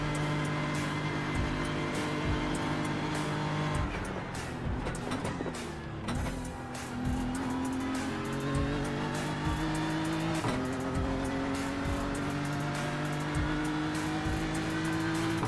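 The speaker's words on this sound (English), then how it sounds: "You won't like the sound of this BMW at the minute." A BMW race car engine at the Bathurst 12 Hour, sounding a bit flat, drones loudly and steadily with shifting harmonic tones, rising and dipping as it revs through gear changes, close and continuous throughout.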